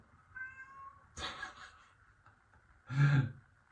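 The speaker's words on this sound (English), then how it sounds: "That was the cat." A cat meows indoors, two distinct vocal calls about two seconds apart, the second louder and lower, close to the recorder in an otherwise quiet room.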